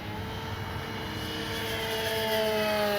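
An E-flite Sportix 1.1 m electric RC airplane at full throttle into the wind gives off a continuous whining drone with rising and falling tones as it passes, fairly loud and steady throughout.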